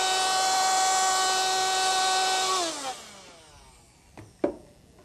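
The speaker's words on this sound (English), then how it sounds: "After about 10 minutes of lapping with a 600 grit lap, you can see we've achieved better than a 16 micro-inch finish." A power lapping tool with a 600 grit lap runs on a steam valve seat as a steady, whining motor tone. It then spins down with a falling pitch and fades, followed by a couple of sharp metallic clicks.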